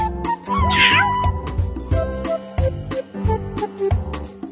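A cat meows several times up close, a string of short, insistent meows with soft bumps and movement between them.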